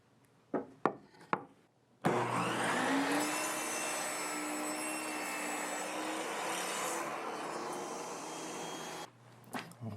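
A power saw cuts thin wood strips, a few sharp clicks and knocks first, then a loud continuous whirring buzz with a faint rising whine for about seven seconds before it stops and a couple of soft clunks follow.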